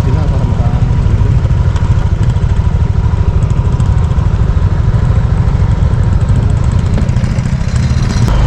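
Close, loud motorcycle engine churning steadily along a muddy cornfield track, a continuous low drone with no letup, and a voice briefly heard over it.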